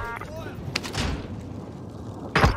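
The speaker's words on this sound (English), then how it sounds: "That airstrike should definitely kill them." Airstrike explosions in Call of Duty Vanguard Warzone land as a few heavy, booming blasts, two close together early and a stronger one near the end, amid game noise and voices.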